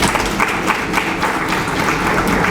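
An audience claps throughout a speech at a farmers' organisation event in Mali, a dense, even burst of many hands close by and fairly loud, with no voices over it.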